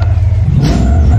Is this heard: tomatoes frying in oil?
no